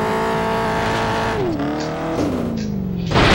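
A car in the Test Drive video game roars loudly as its engine pitch slides down and back up, with squealing tires and a harsh burst of noise near the end.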